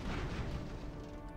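An explosion in the Airships: Conquer the Skies video game, a dense rumbling boom that fills the moment and fades slightly, heard alone without talk.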